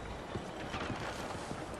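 A horse's hooves clip-clop at a steady walking pace through the city streets of Saint Denis in Red Dead Redemption 2, moderately loud and even over soft ambient city noise.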